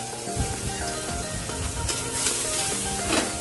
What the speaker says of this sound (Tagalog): Hahaloan nyo rin ng konting oil. Tapos, igigisa ko na yung bawang.